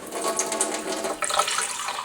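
Water is poured steadily into a container as the first step of making homemade ballistic gelatin, a continuous splashing rush that stays fairly loud throughout.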